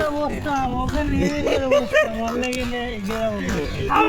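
A small dog yips and whimpers in short, high-pitched bursts close by, mixed with people talking nearby.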